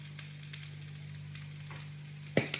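Spiced chips, chicken, onions and peppers being tossed and stirred in a hot pan, with a steady sizzle throughout and a couple of louder scraping clatters near the end.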